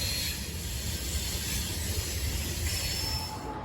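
A freight train rolls past with a steady, continuous rumble and hiss, the low wheel noise holding even and fairly loud throughout, with no voices.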